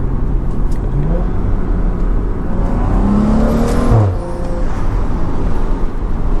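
A BMW F30 with an XHP transmission tune revs hard and loud from inside the cabin, its engine note climbing and dropping sharply as it shifts through gears.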